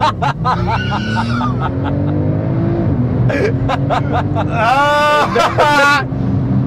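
A 2011 Porsche 911 Turbo S builds revs on launch control, then pulls away hard with rising engine pitch as excited voices shout and laugh inside the car.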